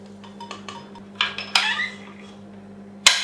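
Double chocolate cookie dough being mixed in a bowl: scattered clinks and scrapes of a utensil against the bowl, a few louder knocks and a sharp clatter at the end, over a steady low hum.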